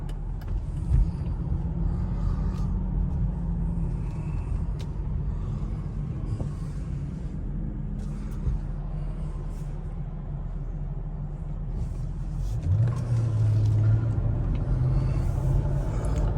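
A Mercedes-Benz SL500 on Neomax coilovers drives smoothly and quietly, its engine a steady low rumble that swells and brightens as it accelerates near the end.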